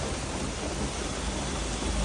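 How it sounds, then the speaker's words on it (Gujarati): Steady rain pours down in a dense, even hiss, filling the whole moment with no voices or other sounds breaking through. "એમાં વરસાદ ચાલુ થઈ ગયો ભાઈ"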